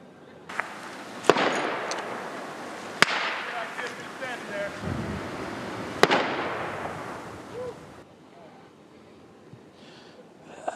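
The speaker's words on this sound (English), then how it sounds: "this is what we heard: gunshots and flashbangs" Several sharp, loud gunshots and flashbang blasts ring out at a distance over a murmuring outdoor background, spaced irregularly, with faint voices and crowd noise between them, during a police shooting incident.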